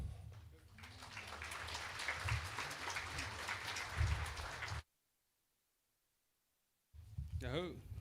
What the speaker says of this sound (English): One more round of applause for Mick